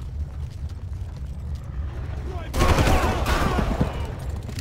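Machine gun fire breaks out partway through in the video game Far Cry, a sudden dense rattling burst of rapid shots over low background rumble.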